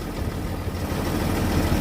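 A vehicle engine idles steadily at minus 15 degrees on a snowy farm, a constant low rumble with no change in pitch and no voices.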